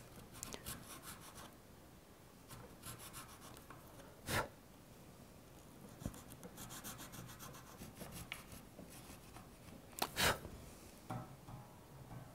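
Small file rasping a ridge out of the nut slot on a P-Bass, a soft intermittent scraping with a few sharper louder strokes, close up with no talking.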